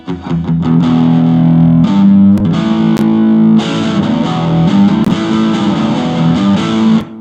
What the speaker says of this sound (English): then we're going to set it up with distortion, which is that rock overdrive sound